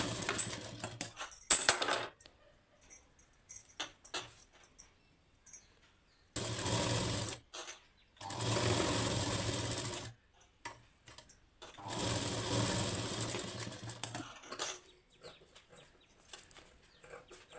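A sewing machine stitches a saree-fabric blouse lining in several bursts, each running steadily for a couple of seconds, with short pauses and small handling clicks in between, close and fairly loud, no talk.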